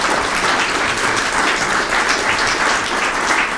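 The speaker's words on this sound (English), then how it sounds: "So I would like you to welcome Mr. Bartholomew with a warm round of applause." Warm audience applause welcoming a lecturer at a talk on Korean hanok houses and ondol floor heating: a full, even roar of many hands clapping that stays loud and continuous from start to finish.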